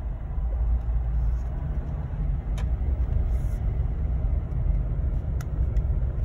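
A Jeep after going through an automated car wash gives a steady low engine rumble from inside the cabin, constant and fairly loud, with a few faint clicks and no speech.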